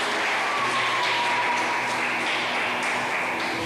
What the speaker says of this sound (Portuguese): Você pode aplaudir Jesus, querido?